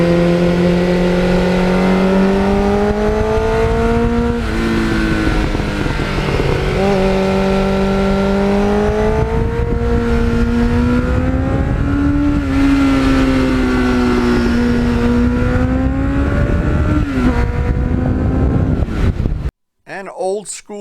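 A 1989 Kawasaki GPX750R motorcycle engine revs and pulls hard as the bike rides, its pitch rising and falling through the gears, with wind rushing at the microphone and a voice talking over it.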